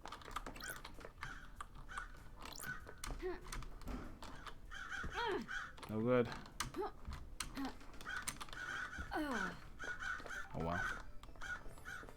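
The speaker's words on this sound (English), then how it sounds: "Get spooked, birds." Repeated crow caws ring out in Paradise Killer, faint and steady across the stretch, while a person talks over them and keyboard clicks tap away underneath.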